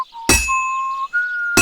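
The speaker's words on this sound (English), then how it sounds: "When I hammer a piece to a beat, the work goes by easier." Metal sword blade struck on an anvil in Kingdom Come: Deliverance II, two sharp ringing clanks with a long sustained tonal ring and whistle-like tone between them.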